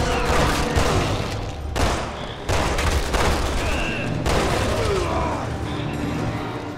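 Rapid gunfire in the co-op shooter Resident Evil 6, dense overlapping shots and bursts ringing out loudly in a sustained barrage, with a few short vocal sounds mixed into the chaos.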